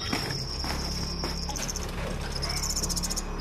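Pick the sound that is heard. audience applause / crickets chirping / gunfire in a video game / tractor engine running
crickets chirping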